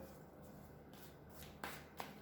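Tarot cards are shuffled close by in soft papery riffles and swishes, ending in a couple of sharper card slaps, quiet and without speech.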